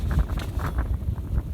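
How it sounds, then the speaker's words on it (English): A gust of wind sweeps past an outdoor painting spot, a steady low rumble of buffeting air with mild rises and falls, fairly close and loud against the microphone, with no talking. "bit of a gust of wind coming through."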